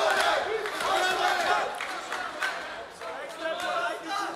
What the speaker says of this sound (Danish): vi har alle tilskuere op at stå og hæppe på Mack Promanee